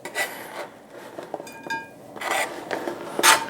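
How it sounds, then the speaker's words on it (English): Bacon and onions going into a pan on a stovetop burner, with scraping, rubbing and light metallic clatter of utensils against the pan, close and fairly loud, no voices. "In my other burner that I have right here, I'm going to add some bacon and some onions and render the bacon down."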